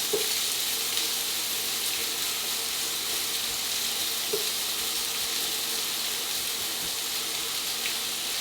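Onions frying in bacon fat in a pan give a steady, close sizzle throughout, with faint scrapes of stirring now and then.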